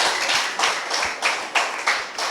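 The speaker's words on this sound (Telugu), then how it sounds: "గట్టిగా చప్పట్లు కొడుతూ కొట్టనమ్మ గట్టిగా." Congregation clapping hard at a church sermon gathering, a run of sharp, fairly even claps in a steady rhythm with a noisy crowd wash beneath, moderately loud and close.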